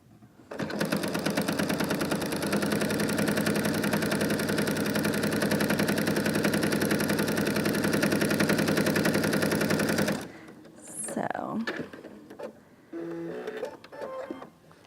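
A sewing machine fitted with a walking foot and guide bar stitches steadily at close range for about ten seconds, a loud continuous mechanical hum with rapid needle rhythm, then stops and gives way to quieter handling noises.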